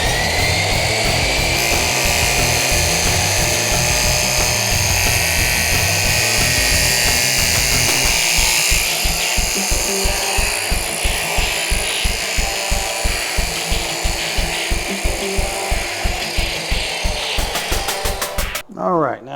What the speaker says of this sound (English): I am going to try to cut it with the channel facing up. I'm going to cut it real slow